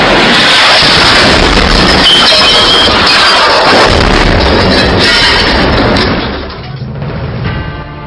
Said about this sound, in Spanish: Segundos después cae un misil seguido de una gran explosión.